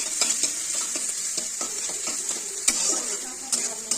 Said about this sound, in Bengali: সুন্দর করে ভেজে নিতে হবে